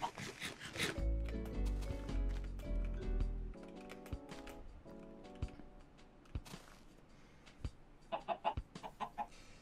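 Chickens cluck in a blocky survival game, with short clucks and game sound effects scattered across the scene, partly over a loud musical passage near the start.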